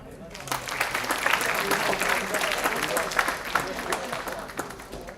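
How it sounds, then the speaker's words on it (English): An audience at a leadership summit breaks into applause, a thick patter of many hands clapping that starts after a half-second pause and holds steady, fairly close and loud, for several seconds. "Let's give them a big round of applause."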